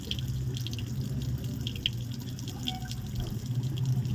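Tap water running into a sink during face washing, a continuous close splashing stream with scattered drips and no speech.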